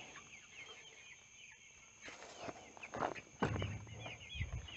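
Hens settling onto their roost give soft, scattered clucks and murmurs, faint and close, with some light shuffling and rustling that grows slightly busier toward the end.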